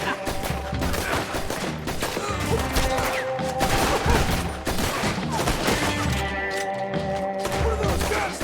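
Dense, sustained gunfire from a Red Dead Redemption 2 shootout, with heavy overlapping shots and bursts that barely let up across the whole stretch, loud and close under a busy mix of in-game sound.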